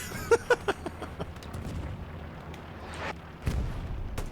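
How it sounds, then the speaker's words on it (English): Artillery explosions in Hell Let Loose at Utah Beach: a quick cluster of sharp distant blasts, then scattered softer thuds and a deeper rumbling impact later, fairly faint overall. "Is getting hammered quite heavily by artillery"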